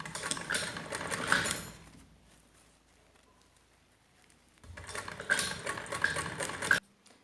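A sewing machine runs a straight stitch along a zipper on an umbrella gown, whirring in two bursts of about two seconds each with a quiet pause between them.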